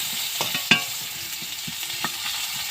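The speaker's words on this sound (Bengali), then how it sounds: "আলুগুলো একটু ভেজে নেব" Potato pieces fry in oil in a pan, a soft continuous sizzle with a couple of brief stirring knocks and a sharp clack early on, nothing spoken.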